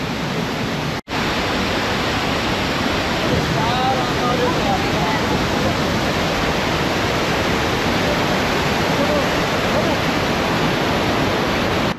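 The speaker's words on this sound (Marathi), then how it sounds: "खूप छान असं धबधबा आहे हा वसुंधरा." Vasundhara waterfall at Bhandardara roars as a dense, unbroken rush of falling water, loud and close, filling the scene steadily with only a brief dropout near the start.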